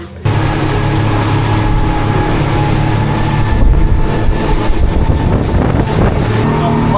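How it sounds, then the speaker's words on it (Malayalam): A speedboat races across open sea near the Phi Phi Islands, its loud engine roaring steadily with rushing wind and water buffeting close to the microphone throughout. "ഇത് ഭയങ്കര സ്പീഡാണ് കഴിച്ച് ഈ ബോട്ട്."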